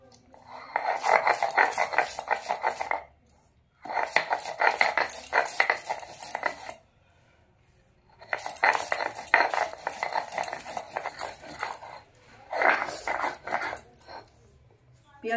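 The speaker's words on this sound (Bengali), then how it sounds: "ওই শিলেই পেঁয়াজটা বেটে নেব।" Onion being ground on a stone shil slab with a grinding stone, heard as rhythmic scraping and knocking strokes in several bursts separated by short pauses, fairly close and moderately loud.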